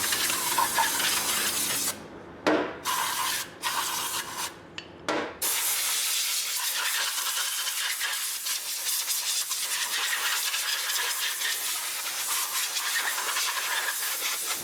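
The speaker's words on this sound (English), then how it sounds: "we need to clean them using some carburetor spray and compressed air" Carburetor cleaner spray and compressed air hiss steadily over pistons from a Chevrolet 454 big block, broken by a few short bursts early on and then a long continuous rush of air, fairly loud and close with no talking.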